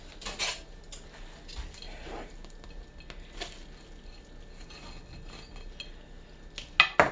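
A knife cuts through a cheese-stuffed meatball on a plate, giving faint scraping and a few light clinks of metal on crockery, ending in a couple of sharper taps near the end.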